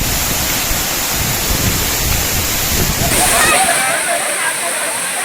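Waterfall with water rushing heavily, a loud steady roar of falling water filling the whole scene, with voices briefly heard over it.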